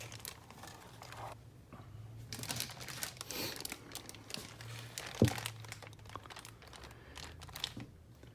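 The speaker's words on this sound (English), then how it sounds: "Let's take the plastic off and take a look at this." Plastic wrapping is peeled off a Sony XS-AW8 subwoofer, giving steady, fairly quiet crinkling and crumpling with one sharp crackle partway through and no talking.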